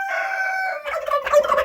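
A rooster crows one long, loud call in a backyard coop, followed by a flurry of clucks and squawks from other chickens close by.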